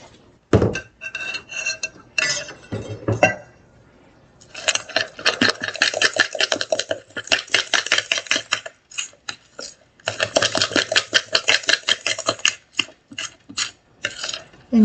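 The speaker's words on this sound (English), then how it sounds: "And you stir that around. And just like my pancakes, I like my batter to be kind of thick." Thick corncake batter of buttermilk being stirred in a bowl with a utensil, giving repeated scraping and clinking strokes in bursts, fairly close, with short pauses between rounds of stirring.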